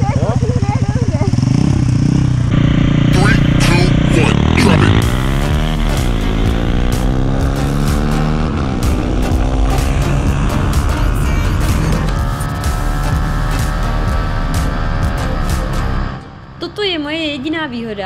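A Honda CBR 125 motorcycle accelerates hard down a straight, its engine note climbing through the revs and holding loud and close before dropping away at the end, with some talk around it.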